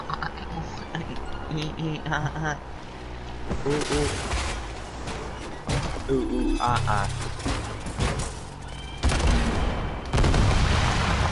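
Plane-mounted cannons fire in the Trailmakers building game, sounding as repeated rapid ticking volleys and dull bangs layered over a busy mechanical background, with a voice talking intermittently.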